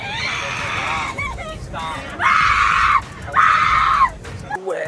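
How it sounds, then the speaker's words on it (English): A woman on an airplane screams in two long, loud, shrill bursts, with a noisy crowd of murmuring passengers around her and cabin rumble underneath. "You shouldn't be screaming like that."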